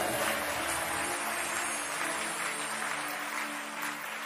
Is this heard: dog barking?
no